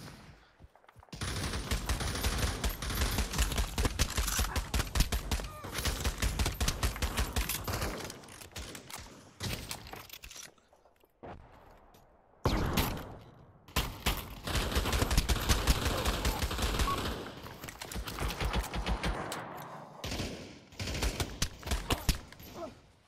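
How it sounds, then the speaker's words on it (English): Rapid gunfire in the VR shooter Pavlov VR during a team deathmatch on the Industry or Dawnville maps, with dense bursts of automatic shots, brief pauses near the middle, then more volleys, loud and close. "Literally four shots. Fired six times."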